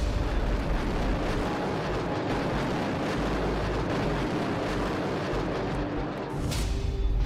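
Artillery shells exploding in wartime, a dense, continuous booming rumble with heavy low-end blasts layered over one another throughout, loud and unbroken.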